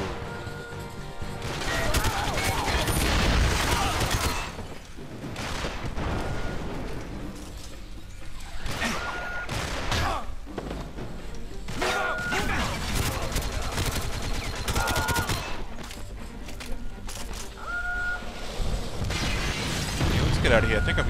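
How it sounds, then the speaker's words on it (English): Rockets and gunfire rip through a Wii session of GoldenEye 007, with dense, continuous bursts of shots, crashes and explosive blasts overlapping throughout, loud and busy with no pauses. "I think I'm getting shot at with rockets"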